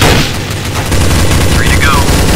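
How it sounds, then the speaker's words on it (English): Loud gunfire in Counter-Strike: Source on the de_dust_2 map comes as a dense burst of rapid shots with a booming low rumble, and a short whistling game effect rises near the end. "Taking fire! Need assistance!"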